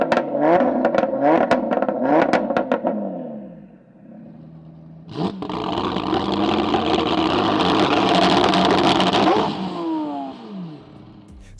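A 920hp Audi TT RS and a 1000hp McLaren 720S rev hard in quick bursts, then a deep roar builds and sustains loudly before dropping away as the revs fall.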